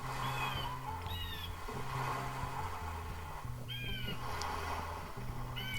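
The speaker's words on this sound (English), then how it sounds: "And the waves and the birds." Waves and birds in Zelda: Majora's Mask: steady surf wash under repeated chirping bird calls and a looping game melody, continuous and fairly loud.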